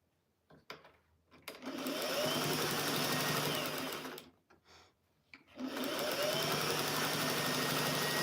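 Domestic sewing machine fitted with a walking foot and zigzag function, stitching in two sustained motorized runs separated by a short pause, close and steady, with no talking.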